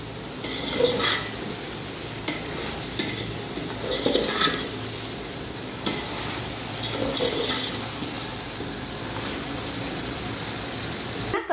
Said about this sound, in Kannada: ಮಿಕ್ಸ್ ಮಾಡ್ತಾ ಇದ್ದೀನಿ ಈಗ ಇದು ನೀಟಾಗಿ ಫ್ರೈ ಆಗಲಿ